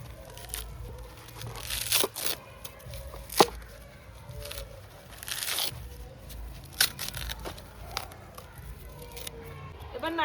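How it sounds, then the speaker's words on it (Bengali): Coconut husk torn off by hand in a village kitchen, a run of sharp, close tearing and crunching rips at irregular intervals, with faint background voices. "ভাই নারকেল গুলো ছাড়িয়ে নিচ্ছে।"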